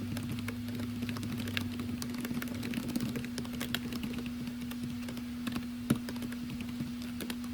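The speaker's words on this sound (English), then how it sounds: "You can type in your second reliable source." Someone types steadily on a computer keyboard, irregular light key clicks over a constant low electrical hum, close by and fairly quiet.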